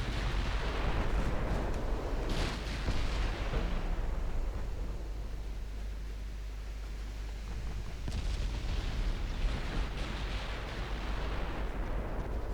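Main battery guns of warships firing in the naval strategy game Ultimate Admiral Dreadnoughts, heard as a steady run of heavy, rumbling booms that fill the whole stretch with low roar and crackling bursts, with no voices.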